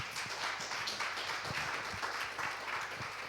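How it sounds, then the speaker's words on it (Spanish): A church congregation claps in brief, thin applause, scattered hands patting at a loose rhythm for a few seconds, moderately quiet. "Qué pobre ese aplauso para Dios"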